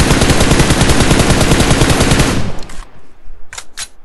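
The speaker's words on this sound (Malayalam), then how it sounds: "ജസ്റ്റ് അതേ ലൈനിൽ ഇവൻ വർമ്മയും വെടിവെച്ചു" Rapid automatic gunfire in a shooting video game: a loud, continuous burst of shots that cuts off abruptly, followed by a couple of brief sharp reports.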